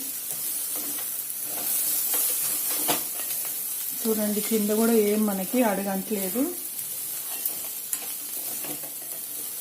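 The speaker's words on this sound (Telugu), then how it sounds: "ఇప్పుడు కాకరకాయలు కూడా మంచిగా వేగుతున్నాయి" Bitter gourd and onions sizzle and crackle in a hot pan with occasional stirring scrapes, while a person speaks over the steady frying.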